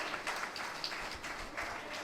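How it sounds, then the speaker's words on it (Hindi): An audience applauds a band at a stage event, a steady, faint wash of clapping that stays even throughout. "जोरदार तालियां बजा दीजिए इस बैंड के लिए"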